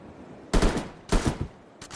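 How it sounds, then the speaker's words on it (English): Shotgun blasts in the video game Yeeps: two loud, broad bursts about half a second apart, each with a short decaying tail, followed by a quicker pair of fainter shots at the end, with no talking. "I have shotguns now."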